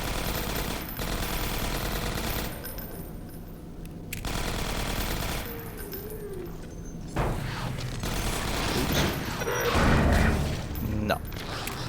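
Gunfire and mechanical clatter from Half-Life 2 Episode 1, a run of sustained loud shots and rattling bursts that keeps going through the whole stretch, with someone speaking now and then beneath the action.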